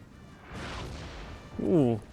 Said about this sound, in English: Prussian howitzers have begun opening.